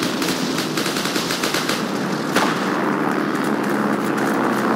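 Loud, continuous automatic gunfire from the Heroes & Generals video game rattles in rapid dense bursts, with overlapping shots and no speech.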